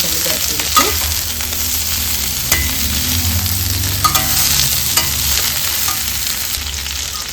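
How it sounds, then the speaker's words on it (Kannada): Sliced bitter gourd frying in hot oil for a gravy, a steady close sizzle running throughout with occasional stirring scrapes and clinks of a utensil against the pan. "ಹಾಗಲಕಾಯಿನ ಈ ರೀತಿಯಲ್ಲಿ ಎಣ್ಣೆಯಲ್ಲಿ ಫ್ರೈ ಮಾಡಿದರೆ ಗ್ರೇವಿ ತುಂಬ ಚೆನ್ನಾಗಾಗುತ್ತೆ"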